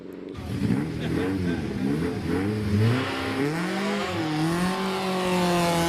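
An MG Riley hill climb special, MG chassis with a Riley engine, accelerates hard at Prescott, its engine note climbing through several rising gear sweeps, loud and close.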